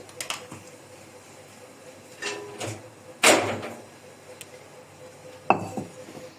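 A few scattered clinks and knocks as a mixing bowl is set down and moved in a kitchen, one sharper clatter in the middle, over quiet room noise.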